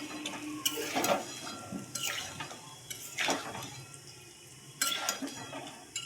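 Meat and potatoes being stirred and fried in a pot, a spoon scraping and clanking against the metal at irregular intervals over a soft, quiet sizzle.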